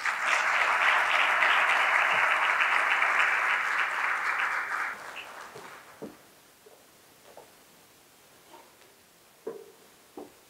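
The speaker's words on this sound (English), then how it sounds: "another round of applause for Jamie" Loud, sustained applause from a luncheon crowd at a chamber of commerce legislative event fills the first five seconds, then fades to scattered claps and faint murmuring.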